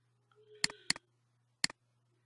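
Sharp computer mouse clicks during spreadsheet work in Excel: a quick double click, a pause, then a single click, crisp and close over a faint steady hum.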